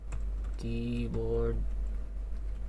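Keys clattering on an Onikuma G80 keyboard as several are pressed together, a few light clicks close by beneath a steady low hum and a voice.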